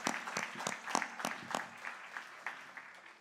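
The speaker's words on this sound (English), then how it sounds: "A big round of applause to all of you." Scattered audience applause at a cultural program, a few loud distinct claps early then thinning into softer sporadic clapping, moderately distant and brief.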